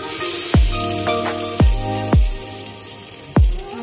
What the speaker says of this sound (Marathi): कांदा तेल तापलेलं आहे याच्यामध्ये। आता आपण जरा कांदा सर्व जिन्नस थोडं थोडं घालून घेऊया। पहिला कांदा टाकते